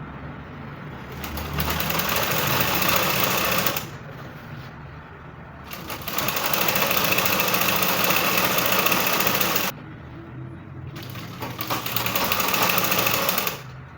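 A sewing machine stitches a bustier gown in three long runs, each a loud, steady, close motor whir lasting a few seconds, divided by short pauses with no voice.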